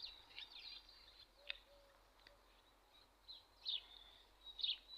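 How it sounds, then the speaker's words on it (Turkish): Faint sparrow chirps ring out in a few short, scattered bursts over a quiet outdoor background. "Bunlar da serçeler."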